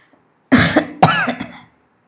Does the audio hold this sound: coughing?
yes